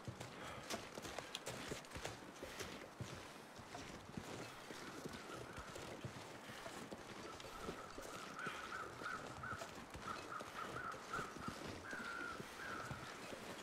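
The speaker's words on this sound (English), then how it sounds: "Can't see the crows, but I hear the crows." Crows cawing in a survival video game set in Hushed River Valley, faint repeated caws in the distance over steady footsteps and a constant ambient wash.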